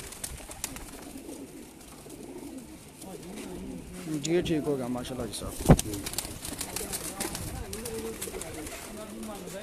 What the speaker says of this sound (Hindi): ये एक और कबूतर आप माशाल्लाह दिखाना चाह रहे हैं